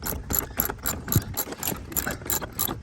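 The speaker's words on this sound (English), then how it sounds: "everybody needs to have a set of ratchets because they come in super handy" Hand ratchet with a socket working loose a long, old bolt, giving a steady run of quick, sharp pawl clicks in repeated strokes, close and fairly loud with no talking.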